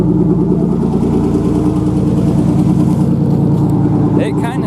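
A V6 engine fitted with a fully custom exhaust and headers idles steadily, a loud, close, even burble that holds for several seconds, with brief voices near the end.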